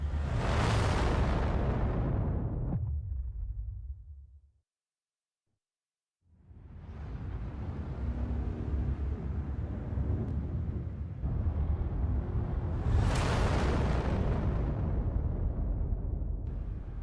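Grenade explosion in the video game Star Wars Zero Company: a loud booming blast that fades out, a short silence, then a long rumbling roar and a second heavy explosion burst.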